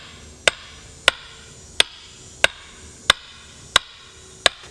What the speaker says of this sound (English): with my sledgehammer, I'm just gonna tap it in a little bit to get it seated